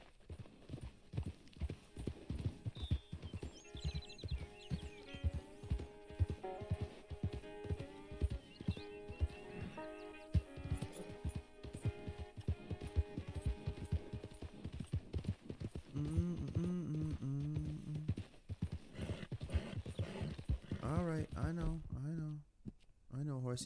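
Horse hooves clip-clop at a steady gallop in Red Dead Redemption 2, a dense run of close, rhythmic hoofbeats with an occasional whinny, while someone talks over them and the pace loosens toward the end.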